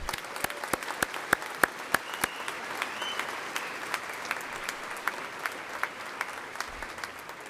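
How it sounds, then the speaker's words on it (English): Steady applause from a graduation ceremony audience, with a few sharp, distinct claps standing out at first before settling into a soft, even patter. "Please join me in a round of applause for Dr. Robert Clevin and the Del Monte Bras"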